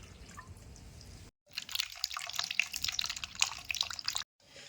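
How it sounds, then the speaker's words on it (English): Water trickles and splashes as it fills a CO2 laser tube and spills from the overflow hole, a close, continuous bubbling flow between brief quiet gaps. "Once the water inside is full, it will come out from the water overflow hole."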